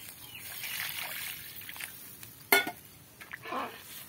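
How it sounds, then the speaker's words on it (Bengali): Water trickles and splashes as it is poured into a cooking pot in a home kitchen. The pour is soft and intermittent, with a brief clink of the vessel partway through. "এখানে আমি আর একটু জল দেব।"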